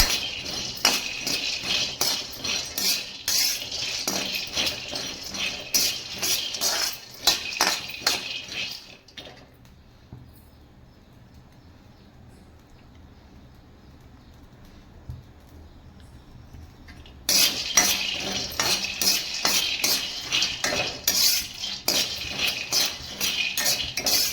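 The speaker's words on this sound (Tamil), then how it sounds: "அடுப்பில் கடாய் வச்சு சூடாயிடுச்சு இப்போ நம்ம வேர்க்கடலை இதை நல்லா வாசனை வர அளவுக்கு வறுக்கணும்" Peanuts are dry roasted and stirred in a hot kadai, making a dense, steady rattle of nuts and spatula scraping against the metal. The clatter runs loud and close, drops away to near quiet for several seconds, then resumes just as busily.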